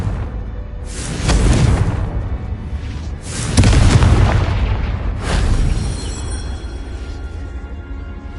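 The Confringo fire spell bursts in the Hogwarts Legacy video game with three heavy booming blasts a couple of seconds apart. Each one is loud and rumbling, then fades into a low roar.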